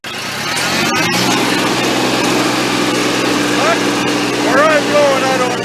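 A low-slung tractor used for grading runs steadily close by, its engine drone droning on at constant level, with brief clicks near the start and a few short squeaky chirps later.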